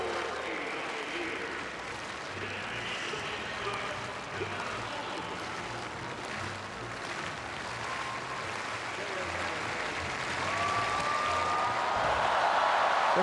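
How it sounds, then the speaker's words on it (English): Stadium crowd at an athletics meet claps slowly and rhythmically for Croatian high jumper Blanka Vlasic, a broad steady roar of many hands that swells louder toward the end, with commentary voices over it. "Slow, rhythmical clapping is what Blanka Vlasic likes to jump with."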